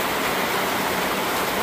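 Heavy rain pours steadily onto a rented home in the Philippines, dripping and splashing near an overhang, a dense, continuous hiss with no pauses.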